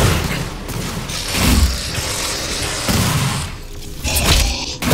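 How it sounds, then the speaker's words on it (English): Battle rifle fire in Doom SnapMap, loud bursts of shots with booming thumps spread across the moment, dense and close with no talking. "Battle rifle!"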